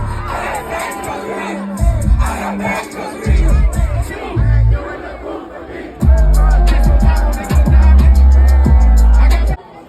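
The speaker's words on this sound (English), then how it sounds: "just take a look at this and just listen to me screaming." Loud screaming and cheering from a festival crowd, with surges of shouting voices over thumping bass music from a nearby stage, swelling in waves and staying dense throughout.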